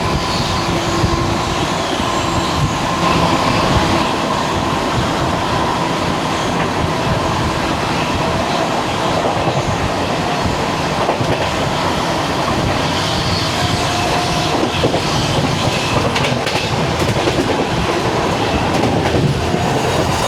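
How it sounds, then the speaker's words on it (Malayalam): The Mysore–Chennai Vande Bharat Express, the first Vande Bharat of Southern Railway, rushes past loudly, its steady roar and rhythmic wheel clatter sustained throughout without talk. "മൈസൂർ ചെന്നൈ വന്ദേ ഭാരത് എക്സ്പ്രസ് ആണ്."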